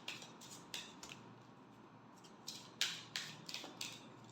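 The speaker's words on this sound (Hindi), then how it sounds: "last shuffle" A deck of tarot cards is shuffled up close: soft riffling and papery flicks in quick, irregular bursts, faint and alone.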